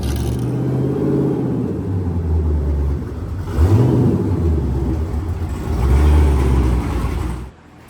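A sports car engine rumbles deep and close as the car is pulled in, blipping the throttle in two or three swelling revs over a steady idle before it cuts off abruptly at the end.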